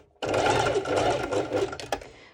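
A sewing machine straight-stitching a bikini shoulder strap starts abruptly and runs at a steady, fast whirring pace, close and loud, with a brief stutter near the end.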